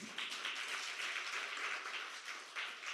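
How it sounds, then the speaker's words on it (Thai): Sustained applause from a seminar audience clapping for themselves, a dense, even wash of many hands heard from a distance, fairly quiet and steady with no talk over it. "ขอเสียงปรบมือให้กับตัวเองด้วยค่ะ"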